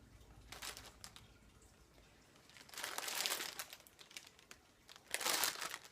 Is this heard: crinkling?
yes